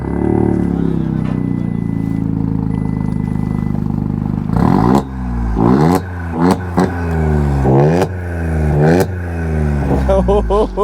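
Volkswagen Polo rally car prepared for INRC events, its modified exhaust blaring as the engine idles loudly, then blips through a run of sharp, close revs that rise and fall in quick succession.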